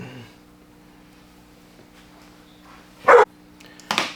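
A dog lets out two short, sharp barks near the end, close by, after a quiet stretch with only a faint steady hum.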